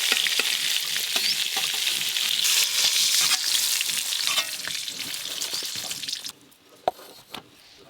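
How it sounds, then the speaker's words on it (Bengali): Slices of pointed gourd (potol) fry in oil in a pan, a loud, steady crackling sizzle that drops off sharply near the end, leaving faint pops and a couple of clinks. "পটলগুলো বেশ ভালো করে ভাজা ভাজা হয়ে গেছে"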